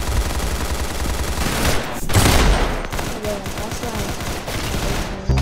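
Video game gunfire: rapid bursts of shots and fusillade crackle fill the scene, peaking in a loud volley midway, with a player's brief voice over the continuous shooting.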